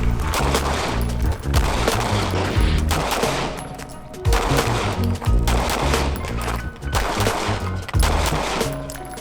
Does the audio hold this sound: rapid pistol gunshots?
yes